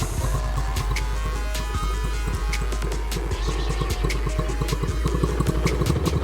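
A small single-cylinder pocket rocket mini bike engine runs after a carburetor upgrade, chugging in a fast steady rhythm with some rattle, close and loud, and no talking over it.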